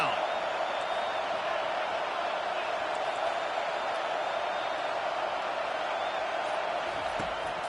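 Home crowd cheering in a Madden football video game as the defense tries to get off the field on third down, a steady dense roar that holds at an even level throughout.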